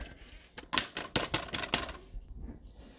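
A knife minces an onion on a cutting board for a Southwest breakfast omelet, giving a quick burst of rapid, crisp taps close by, then trailing off into quiet, with no talk.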